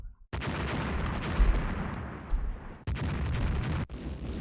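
Naval gunfire strikes a warship in the game Rule the Waves, heard as dense, rumbling salvo and explosion noise in sustained bursts broken by abrupt cuts and a few sharper impacts, with no voices.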